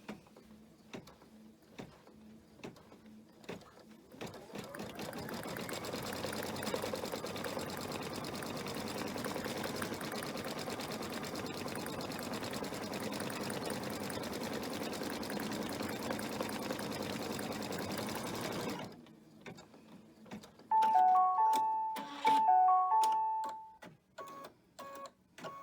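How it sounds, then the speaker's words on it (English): An embroidery sewing machine stitches a bean stitch on a 4th of July flag banner, a steady, close mechanical whir running for about fifteen seconds before stopping, followed by a few short electronic beeps. "I'm just doing a bean stitch because I wanted a little more rustic look"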